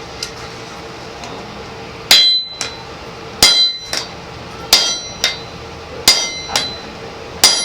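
A Damascus steel billet is hand-forged with a hammer at a hammer-in demonstration, giving loud, ringing metallic blows in uneven groups of strikes against a faint background.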